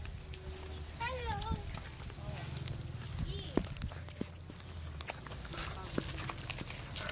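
A tired horse's hooves clip-clop in a quick, uneven rhythm at moderate distance, mixed with people talking and children's voices.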